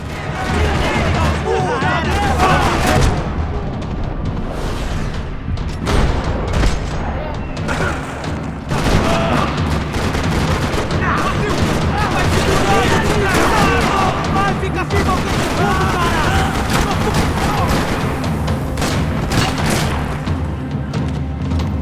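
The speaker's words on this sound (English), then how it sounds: "Another parking lot rattling with gunfire." Dense, continuous bursts of gunfire and booming impacts in a parking lot from the game Max Payne 3, with voices talking over the constant rattle of shots.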